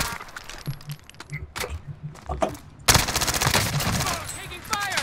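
Automatic gunfire erupts in a Call of Duty: Modern Warfare multiplayer match, scattered shots at first and then a sustained loud burst of rapid fire, with brief bits of player chatter.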